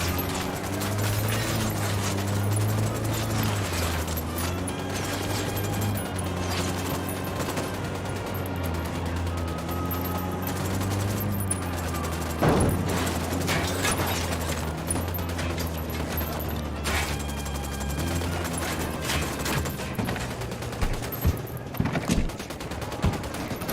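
Sustained automatic gunfire in the tactical shooter game Ghost Recon Wildlands, a steady loud stream of shots over a droning background, punctuated by a few sharper bangs near the end, with no talk.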